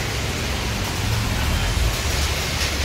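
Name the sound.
heavy rain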